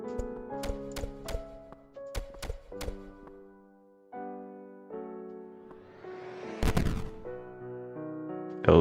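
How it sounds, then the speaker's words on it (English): Retro video game explosion sound effects generated in an SFXR-style editor, several sharp noisy bursts in quick succession followed by a louder crackling blast, heard over tonal background game music. "I can literally just click on the explosion sound like 5 times and be like, okay, that's good"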